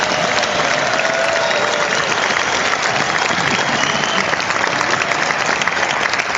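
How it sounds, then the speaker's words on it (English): A studio audience claps in a dense, sustained round of applause that holds steady and loud from start to finish. "Big round of applause."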